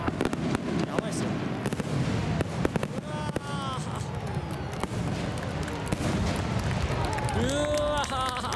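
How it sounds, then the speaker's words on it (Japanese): Fireworks crack and boom continuously at the 2022 Etajima Bay fireworks festival in Japan, a crowded outdoor setting, with people shouting and cheering throughout and a few whistling rockets rising near the end. "これが板島会場花火大会、素晴らしい。"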